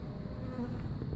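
A soft, steady buzzing of honeybees in a top bar hive, faint and continuous, as if from a small cluster nearby.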